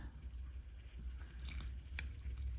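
Water drips and trickles out of the bottom of a porous hypertufa planter, faint, close, irregular drops over a low background hum.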